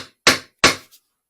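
Two firm, close knocks of a rubber soft hammer on a drift seating a fork seal, followed by a faint third tap, sharp and quickly fading.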